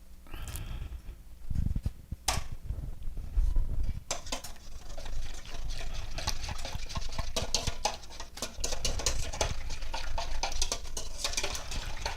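Chocolate mixture being whisked little by little into an egg mixture for a chocolate pie, giving steady close scraping and clinking of a whisk against a bowl, quieter at first then continuous and fairly loud.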